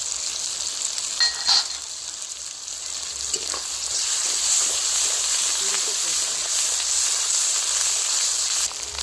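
Ginger paste sizzles and fries in a pot for khichuri, a steady close hiss with occasional stirring scrapes and clinks throughout.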